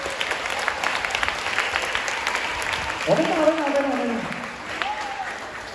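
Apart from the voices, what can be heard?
students applauding during a recollection session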